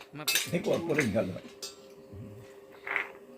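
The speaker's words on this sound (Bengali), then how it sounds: "কাটা চামচ দিয়ে মিষ্টিটা তুলতে হয়" A fork scraping and clinking against a plate while lifting a rasgulla sweet, a brief cluster of light metallic taps close up, with a voice talking over it.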